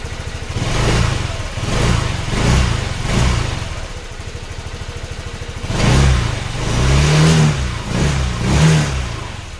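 A Honda Click scooter engine runs steadily up close after a sensor repair, its throttle rising and falling in repeated revs over a constant rumbling idle.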